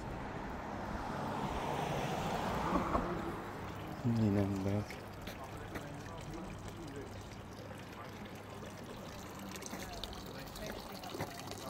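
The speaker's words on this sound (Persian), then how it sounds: "شیر آبی خوشگلی درست کردن. نگاه کن قشنگ از این جاومیه به اینج میره." Water pours and trickles steadily from a decorative water tap outdoors in Switzerland, heard faintly under nearby talking, with distant traffic hum in the background.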